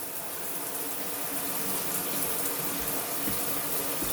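Water runs steadily from a tap to wash freshly harvested vegetables such as squash, making a continuous even rush with no pauses and no voices.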